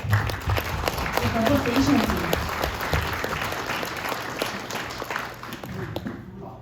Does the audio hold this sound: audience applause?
yes